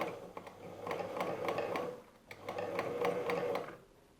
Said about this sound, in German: Schlage meine Stoffkante nach innen und nähe nun einmal